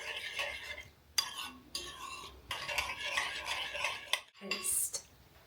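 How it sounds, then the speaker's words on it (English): Homemade pumpkin soup is stirred in a pot with a utensil, giving a continuous scraping, swishing sound with a few sharper knocks of metal against the pan, close by. "Give it a good mix."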